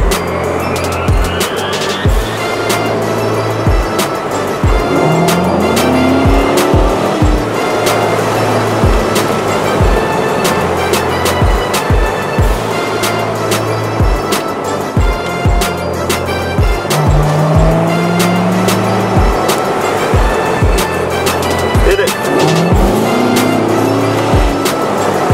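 A 2018 Ford Mustang GT V8 roars loudly and continuously, revving up and down in repeated surges, with bursts of squealing tires and sharp pops throughout.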